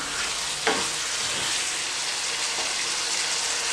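Softened turnip and carrot in a spiced pickle-style sabzi are stirred and cooked in a pan, giving a constant, loud sizzle with a single clear spoon knock near the start.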